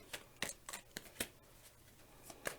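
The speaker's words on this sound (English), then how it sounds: "I will shuffle until I feel like a tingling sensation, and then I know it's time to stop." A deck of tarot cards being shuffled by hand, with a series of crisp riffling flicks and soft slaps at an uneven rhythm, close up and alone without talking.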